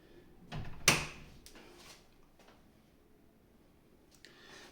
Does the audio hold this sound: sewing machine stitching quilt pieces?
no